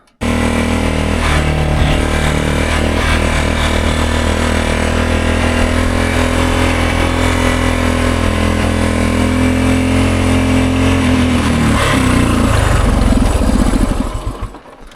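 A 50-year-old Honda Enduro motorcycle with plenty of wear labors up a hill climb, its small engine droning loud and steady for most of the run before the revs change and it suddenly cuts off near the end.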